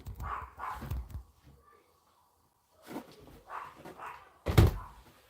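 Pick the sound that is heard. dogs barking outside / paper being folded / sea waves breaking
dogs barking outside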